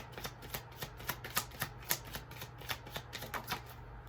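A deck of tarot cards being shuffled by hand, a steady run of crisp riffling snaps close to the listener, with no one speaking.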